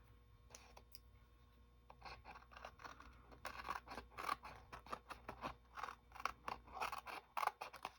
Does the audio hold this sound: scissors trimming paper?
yes